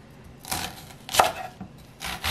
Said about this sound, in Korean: 양파 반 개만 썰어 넣겠습니다.